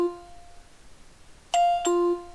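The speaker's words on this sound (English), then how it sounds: "I can toggle whether or not it makes a sound when it finishes the scan." A document scanner in the Focus Scanner interface gives its scan-finished chime: a two-note electronic ding-dong, a higher tone followed by a lower one, clear and close over a quiet background, with no talking.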